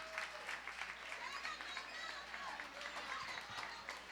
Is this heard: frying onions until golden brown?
no